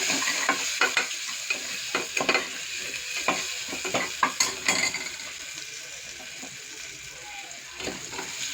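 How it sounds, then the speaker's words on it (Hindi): Onions frying with pink salt in a pan for aloo pulav, a steady sizzle broken by repeated scraping and clinking stirs, close and fairly loud, with brief talk at times. "देखिए प्याज हमारी भुन गई है"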